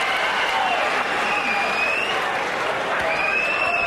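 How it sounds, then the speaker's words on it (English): A boxing arena crowd at the Klitschko vs Byrd heavyweight fight applauds and cheers loudly and continuously. Faint calls rise above the roar. "And there are a fair number of Byrd rooters in the crowd."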